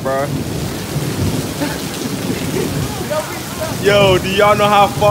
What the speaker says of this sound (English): We got stuck out here in the thunderstorm